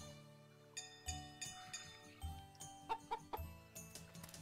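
A farm chicken in Story of Seasons: Pioneers of Olive Town clucks in short repeated bursts over a light game music background, fairly quiet and close.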